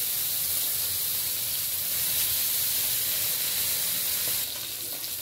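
Pieces of fish fry in hot oil, giving a loud, continuous, close sizzle and hiss that holds steady and eases slightly near the end, with no voices.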